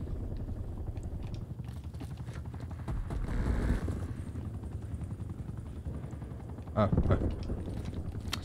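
Helicopter in the video game Call of Duty Black Ops Cold War, a steady rotor drone running throughout behind game noise, with a louder burst near the end and talk over it.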